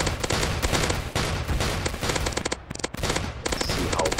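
Rapid automatic weapon fire from the Roblox Zombie Attack game blasts in loud, dense bursts with only brief gaps, the crackling volleys filling nearly the whole stretch.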